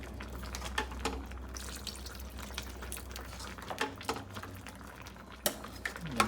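Water is poured into a ragi flour mix in a home kitchen, giving faint, low splashing mixed with scattered clinks and knocks of utensils and dishes.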